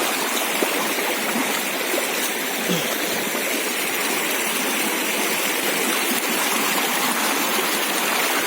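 A river stream flows over wet rocks in a steady, loud, close rush of water that continues unbroken throughout, with no voices.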